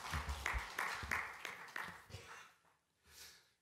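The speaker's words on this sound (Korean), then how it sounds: "목사님 나오실 때 박수." A congregation applauds as the pastor comes forward at an early-morning prayer service, a fairly faint spread of clapping that thins out and fades, then a short murmur near the end.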